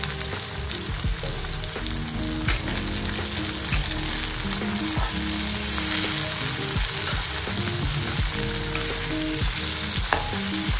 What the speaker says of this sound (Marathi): मस्तपैकी फ्राय करून घ्यायचे वाटणसाठी